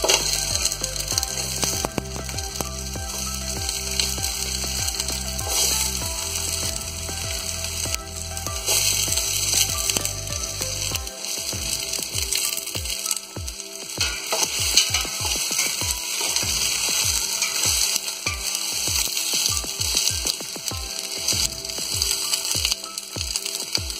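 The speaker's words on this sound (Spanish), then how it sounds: "Mientras los langostinos están sofriendo" Prawns fry in hot oil in a pot for shrimp broth, a continuous close sizzle and crackle, with rhythmic wooden stirring knocks and scrapes throughout and no voices.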